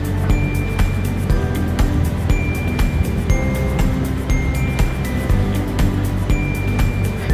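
A speedboat running fast across the sea near Gulhi Island in the Maldives, its engine a steady, loud, continuous roar mixed with rushing water and hull noise throughout.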